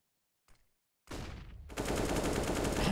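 Rifle fire from a CS:GO Inferno esports match: a faint single shot, then a sustained full-auto spray that grows louder and denser, continuous rapid cracks without pause.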